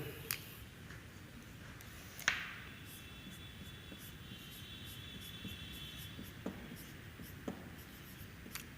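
A pen scratches steadily on paper while a definition of electric intensity is written, a faint close continuous scribbling with a few light taps, no voices.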